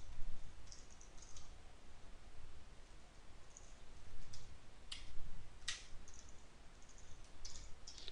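Python code typed on a computer keyboard, quick light key clicks in short irregular runs with a few sharper strikes, close but soft over a low background rumble.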